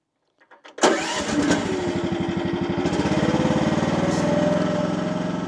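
The small engine of an AGT WH12R mini excavator cranks, catches and then runs at a steady, loud, throbbing idle close by.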